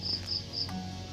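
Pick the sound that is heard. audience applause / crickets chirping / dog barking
crickets chirping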